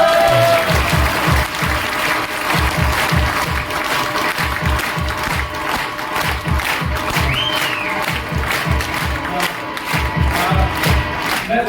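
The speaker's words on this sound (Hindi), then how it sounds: "हम सब लोग एक बार हाथ ऊपर करके जैन सर के लिए तालियां बजाएं।" An audience claps and cheers for Jain sir at a celebration program and seminar, a loud continuous crowd roar with a rhythmic thumping running through it and occasional shouts rising above.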